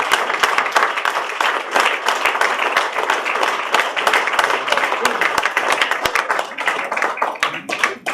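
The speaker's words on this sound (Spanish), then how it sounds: "Otro aplauso para ellos, por favor." Sustained applause from an audience filling a hall at a centenary commemoration event, a dense steady patter of many hands clapping at close range that continues without pause and thins slightly near the end.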